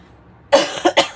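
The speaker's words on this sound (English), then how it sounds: "Excuse me so much for coughing right in there." Three sharp coughs close by, the first strongest, following a quiet pause, with no talking.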